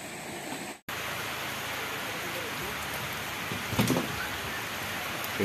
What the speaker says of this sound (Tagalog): Inabutan tayo ng ulan habang nagpapadulos tayo.